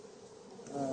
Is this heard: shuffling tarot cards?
no